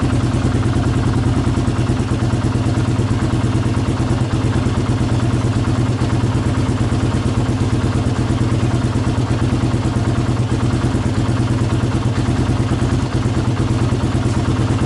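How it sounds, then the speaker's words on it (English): A Kawasaki KLR 650 motorcycle with a Mikuni carburetor idles steadily at close range while being tuned, a loud continuous low engine chug with an even mechanical patter and no talking. "What I'm going to do first is just drop the idle a bit."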